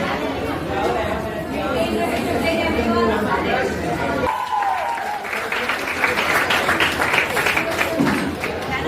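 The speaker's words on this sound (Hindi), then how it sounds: "एक जोरदार तालियां" Applause and crowd chatter at a school foundation day celebration, busy and fairly loud, with voices and general bustle mixing into the clapping throughout.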